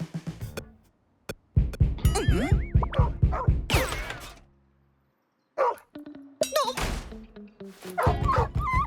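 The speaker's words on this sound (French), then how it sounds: "Un chat qui aboie?" A cartoon cat barking like a dog: a series of rapid yapping barks and whimpers, loud and close, with pauses between bursts and some squealing vocal sounds mixed in.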